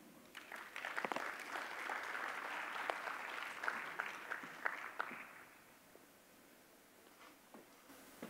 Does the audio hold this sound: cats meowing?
no